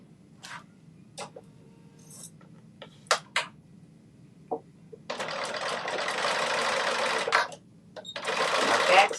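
A sewing machine runs a back stitch, with a few light clicks and taps first, then two sustained, fairly loud bursts of whirring stitching separated by a brief pause.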